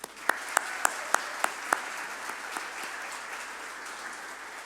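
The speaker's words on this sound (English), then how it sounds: "Please help me join in a round of applause." Audience applause at the Perris 2022 State of the City event, a handful of distinct claps starting things off before settling into a soft, distant patter of clapping.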